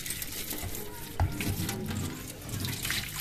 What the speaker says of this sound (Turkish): sıcak suyumuzu dökeceğiz